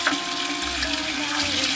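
Water pours steadily into a container of chopped nettles for compost, a continuous close splashing rush lasting under two seconds with no talk.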